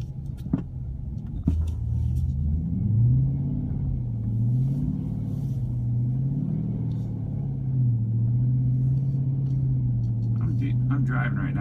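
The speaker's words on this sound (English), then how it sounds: "I'm driving right now on pretty deep stuff" A Dodge Charger on snow tires, rear-wheel drive, rolls through deep snow with a steady low engine rumble that rises and falls slightly, heard from inside the car, while someone talks over it throughout.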